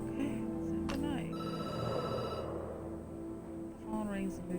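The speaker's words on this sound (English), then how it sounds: "The phone rings and you jump." A telephone rings with a steady electronic tone lasting about a second, with people talking before and after it.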